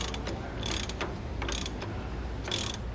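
Ratchet wrench clicking as bolts and nuts are tightened on a Roadmaster rear anti-sway bar installed on a 2015 Thor ACE motorhome, in several quick bursts of close, rhythmic ratcheting.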